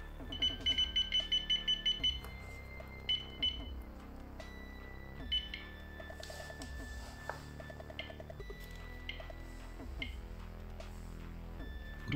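An RM-9000 radiation dosimeter's dose rate alarm opens with a quick run of about eight sharp beeps, then gives scattered single beeps over a continuous tonal backdrop.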